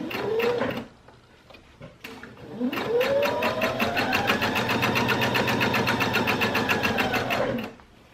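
A domestic sewing machine stitches fabric for a boxed-corner bench cushion, running in a short burst, pausing, then a long steady whirring run up close before stopping.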